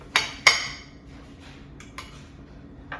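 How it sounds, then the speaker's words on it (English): A knife cracks into the crispy shell of a taco cake, two sharp crunching hits close together followed by a few fainter cutting taps against a plate. "So let's go ahead and cut into that and get a bite for ourselves here."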